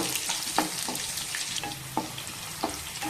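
Green chillies and curry leaves frying in hot oil for an egg curry, a continuous close crackling sizzle with a few sharper pops and stirring scrapes, no voices.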